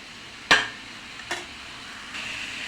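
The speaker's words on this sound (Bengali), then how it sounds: "আমি বেগুনগুলো কষে নিচ্ছি" Eggplant with spices is fried and stirred in a pan: two sharp knocks of a utensil against the pan over a faint, low sizzle that swells slightly at the end.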